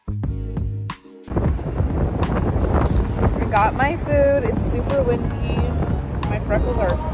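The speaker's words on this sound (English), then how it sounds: "It's super windy." Strong gusts roar and buffet the microphone while a person talks over the wind noise.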